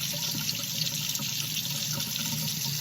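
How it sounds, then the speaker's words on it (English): Tap water running from a household faucet, a steady continuous hiss and splash at moderate loudness, alone with no voices. "Tap water from the faucet."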